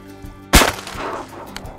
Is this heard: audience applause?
no